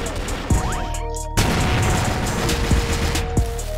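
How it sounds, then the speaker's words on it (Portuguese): A grenade explodes in the CrossFire shooter game with a loud boom partway through, set amid repeated gunshots and game effects that keep the scene busy and close. "Granada!"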